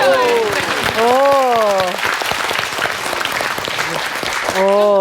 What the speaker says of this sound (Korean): 자, 박수 한번 보내주시죠.